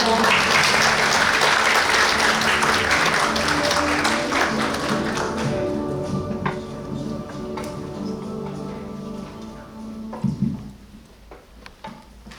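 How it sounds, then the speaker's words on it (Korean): A seminar audience applauds to welcome a company representative to the stage. Loud, dense clapping fades over several seconds into scattered claps, a few louder taps, and quiet room noise. "모두 큰 박수 부탁드립니다"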